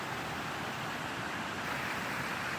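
A steady, dense rush of water falling at Toccoa Falls fills the air, constant and broadband with no breaks, heard fairly close.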